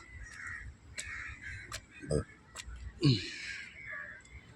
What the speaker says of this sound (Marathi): कावळ्यांची आंघोळ आताच बघितली.